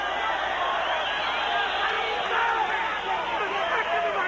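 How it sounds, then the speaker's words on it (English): Boxing crowd at a bout whistling and murmuring mid-round, a dense, steady wash of whistles and crowd noise at a distance, with no clear break. "the crowd halfway through this round wanting something to happen with the whistles"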